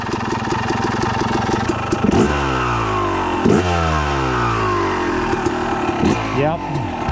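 A truck engine out on a dirt trail idles with a lumpy, pulsing burble, then gives three or four quick revs that rise and drop away, close and moderately loud.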